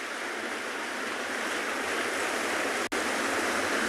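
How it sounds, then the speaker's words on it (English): Steady broadband wash of ocean surf at a South African coastal safari setting at sunset, continuous and fairly loud with no clear individual breaks, alone without voices. "hopefully all you can hear is the wonderful sounds of the ocean"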